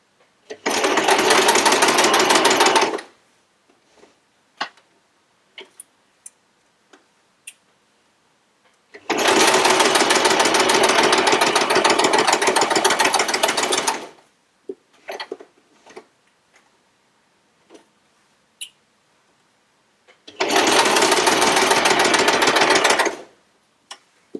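A sewing machine stitches quilt pieces in three loud, even bursts of a few seconds each, separated by quiet gaps with small clicks and taps, and no voices.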